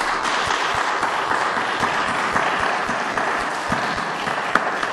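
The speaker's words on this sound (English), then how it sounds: "Let's give them another round of applause." An audience claps after a presentation at a forum, giving a dense, steady round of applause that holds at an even level throughout with no voices over it.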